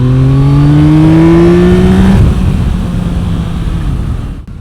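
Yamaha MT-09 SP triple-cylinder motorcycle pulling hard at full throttle in third gear and sport mode, engine note rising steadily and loudly for two seconds, then a gear change as it keeps driving on with a steady drone and wind noise.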